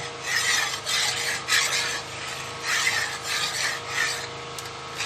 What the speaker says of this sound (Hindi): गर्म करने से पहले मैं इसको बहुत अच्छे तरीके से मिक्स कर लूँगी ताकि इसके अंदर जो है वो लम्स ना पड़े